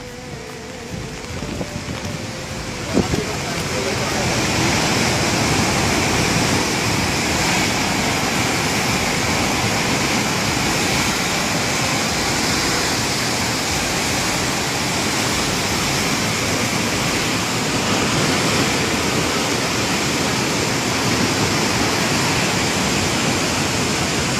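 Floodwater of the Ravi river rushes past in a loud, unbroken roar close by, a steady wash of noise after a few faint knocks at the start.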